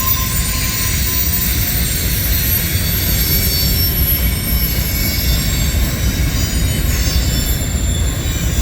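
A CSX mixed freight train rolls past close by, accelerating onto the Metropolitan Sub, with a loud, continuous roar of wheels and cars, faint squealing tones and steady clatter throughout and no gaps.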